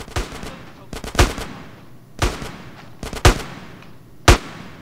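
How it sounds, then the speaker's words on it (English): Gunfire in a shootout in Grand Theft Auto: San Andreas, with five loud sharp shots spaced about a second apart, each followed by a short decaying tail. "Give me some fucking covering fire."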